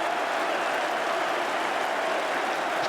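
A cricket crowd at The Oval during the 2005 Ashes Test between England and Australia applauds and cheers steadily, a dense, loud wash of clapping that fills the whole stretch without a break.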